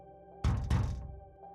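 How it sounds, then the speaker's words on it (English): Two heavy thuds land in quick succession on a front door, booming and close, then fade out over a low steady hum. No one speaks. "there was a knock at my front door"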